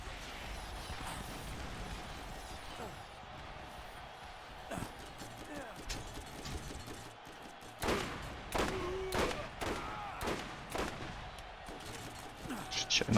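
Gunfire in the Borderlands video game, with sharp shots and bursts that start out sparse and grow into a louder, rapid cluster of cracks toward the end. A voice talks faintly underneath.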